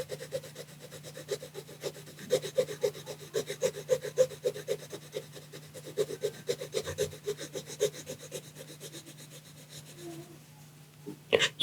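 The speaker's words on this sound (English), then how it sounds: "So again, I'm using the side of the pencil" The side of a watercolour pencil is rubbed back and forth across paper to shade in areas of a manga drawing. The strokes are quick, rhythmic and scratchy, heard close up and fairly quiet.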